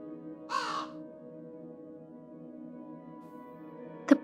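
A crow caws once, fairly near, with a short harsh call and a faint second caw at the end. A steady low musical hum runs underneath.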